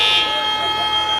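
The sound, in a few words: fire alarm ringing in building, Ms. Marvel episode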